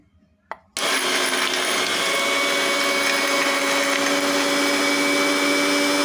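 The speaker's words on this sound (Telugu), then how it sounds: "చివరిగా ఇందులోకి కొంచెం క్రిస్టల్ సాల్ట్, అదే దొడ్డుప్పును కూడా యాడ్ చేసుకొని మిక్సీ అయితే పట్టుకోవాలి." After a brief click, a mixer grinder starts up and runs loudly and steadily grinding spice paste with coarse salt, a constant high whirring motor drone.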